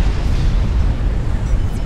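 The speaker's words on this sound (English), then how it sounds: "It is Pale Rider getting caught up in that explosion as well." An in-game explosion as Mercy units strike a commander in a Supreme Commander: Forged Alliance match, a loud, dense low rumble sustained with no clear break through the whole moment.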